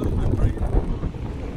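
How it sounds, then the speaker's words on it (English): Wind buffets a microphone while a narrowboat cruises the Llangollen Canal, a loud, close, low rumbling gust that lasts throughout. "Too breezy."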